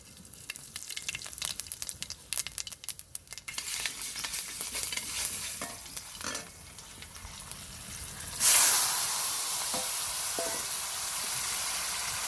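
Panch phoron spices stirred in hot oil for a fish-bone vegetable dish, giving a steady sizzle with scraping stirs, then a louder burst of hiss partway through that settles into continuous frying, close by with no talk.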